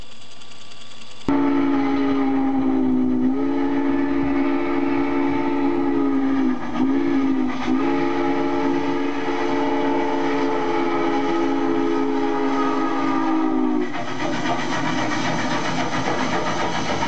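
A model train locomotive pulls a long train up a grade, humming along with a steady electric motor whine that dips briefly a couple of times, continuous and fairly loud, with no voices.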